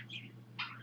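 Pet birds give two short, soft chirps indoors, about half a second apart, faint against a low steady hum with music playing.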